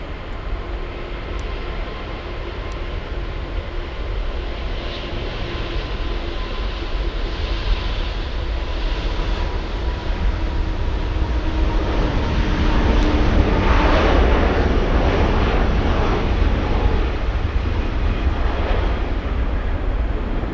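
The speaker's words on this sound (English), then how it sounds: "Caution, wake turbulence, Super Airbus departing" Super Airbus airliner departing LAX runway 24 left, a loud sustained jet engine roar from a distance that swells gradually as it accelerates, with no talk over it.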